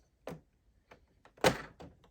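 Plastic side cannons snap into place on a Razor Crest toy model from the Star Wars Vintage Collection: a few small clicks and knocks, then one louder snap, all close and with no talking.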